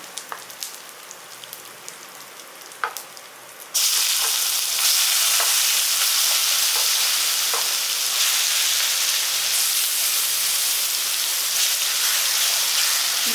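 Indian gooseberries (nellikai) drop into hot oil: after a few quiet clinks, a loud, dense crackling sizzle bursts in and holds steady, close and continuous.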